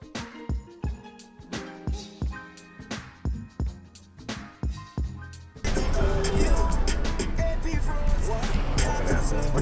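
BMW E30 engine fitted with a carbon fiber cold air intake, revving in a steady pulsing rhythm of repeated throttle blips before settling into a louder continuous roar with road and wind noise.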